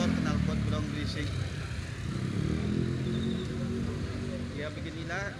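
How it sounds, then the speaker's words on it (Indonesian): Engine rumble from motorcycles with loud aftermarket brong exhausts on the street around Jam Gadang in Bukittinggi, a rough mid-level drone under nearby chatter and street noise. "Motor knalpot brong berisik"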